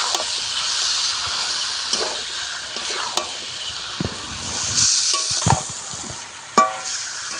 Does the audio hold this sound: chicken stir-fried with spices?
yes